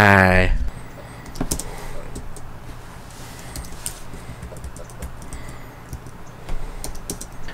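Rapid clicking of typing on a computer keyboard during video editing, steady and close, after a brief burst of voice at the start.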